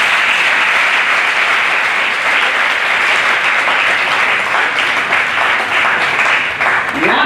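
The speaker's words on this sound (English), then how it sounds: "I'm sure you can clap for yourself for that accomplishment." A crowd at an International Women's Day celebration claps for itself, a loud, sustained burst of applause that stays full and even for several seconds with no break or voices on top.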